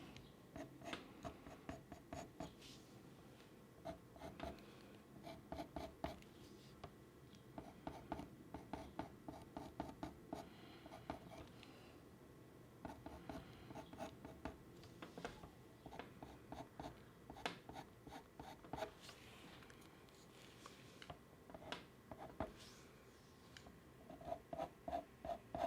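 Colored pencil burnishing on paper while drawing a Labrador's lighter hairs, a steady run of close, quiet scratchy strokes and rubbing in quick irregular bursts, with no voices.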